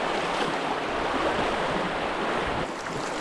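Rushing river water roars steadily and loudly during a wade across a stony river, a broad continuous wash close by with some wind noise and no voices.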